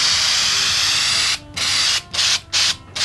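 A spray paint can spraying boots, a loud, close continuous hiss that breaks off and restarts in three short bursts near the end.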